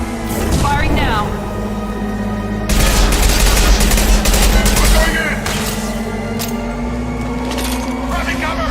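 Gunfire in a Mass Effect 2 firefight: rapid bursts of weapon fire, densest in a loud stretch near the middle, over a steady droning hum, with voices speaking around the shots.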